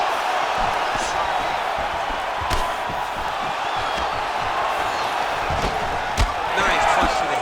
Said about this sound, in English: Nice punch to the head.